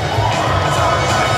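Thousands of Toronto Raptors fans cheer and shout after the Game 4 win over the Warriors, a dense roaring crowd with high shrieks, loud and continuous throughout.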